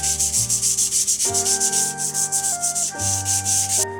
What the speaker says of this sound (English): I sanded the entire surface to prepare it for painting